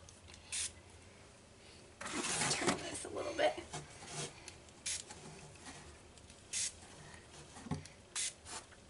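A spray can hisses onto a paper plate Christmas wreath craft in several short, separate bursts, with a longer spell of activity early on and voices talking softly between sprays.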